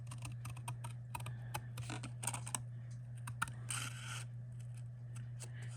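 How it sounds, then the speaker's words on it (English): Scissors fussy cutting around a paper card, a series of close, crisp snips and rustling paper over a steady low electrical hum. "So I'm just going to cut right on the outside, and that's how I'm going to fussy cut this."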